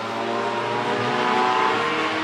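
Race cars speeding around a dirt track, a loud sustained engine roar with revving, layered motor tones and a hint of tire noise as cars sweep past.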